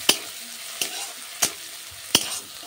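Spices, including cracked cardamom pods, sizzle in hot oil in a pan for a cauliflower and rohu fish curry, with four sharp scrapes of a spoon stirring at a steady, spaced rhythm over a constant soft fry.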